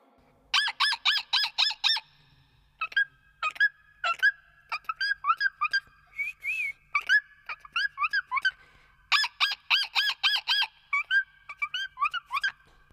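A parrot squawks at a zoo in harsh, repeated bursts, calling in quick clusters of several squawks with short pauses between them. The calls are close, loud and clear over a quiet background.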